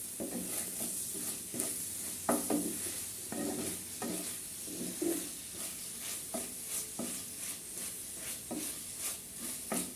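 A bean and potato fry with coriander leaves is stirred in a pan under a gentle sizzle, with repeated scraping strokes and light clinks of the spatula every second or so, close and fairly quiet.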